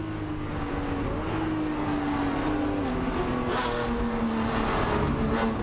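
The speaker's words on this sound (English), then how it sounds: "look at the Jag pouring all that 500 plus horsepower onto the road" Jaguar 5.3-litre V12 coupe racing at Silverstone, a continuous loud engine roar holding steady with a slowly falling then rising pitch as the car pulls along the track.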